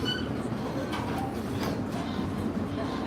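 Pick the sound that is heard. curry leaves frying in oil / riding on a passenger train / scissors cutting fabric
riding on a passenger train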